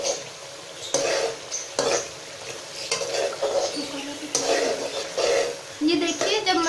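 A spoon stirs masala with a stock cube and thick chillies in a frying pan, producing repeated scraping strokes over a continuous oily sizzle, close by, with a voice speaking now and then.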